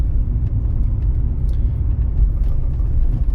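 Car driving slowly in second gear on a rough, potholed road, a steady close low engine and road rumble heard from inside the cabin with faint knocks, no talking.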